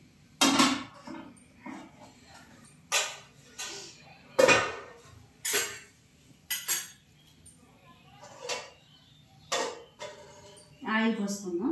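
A cooking pot set down on a lit gas stove in a home kitchen while fish curry is prepared, giving a series of sharp metallic clinks and clatters in short bursts, with some quiet talk.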